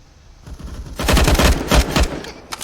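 Rapid bursts of video-game gunfire, loud and dense through the middle, with some shots fired at a wall during a competitive match, tapering to a single late shot.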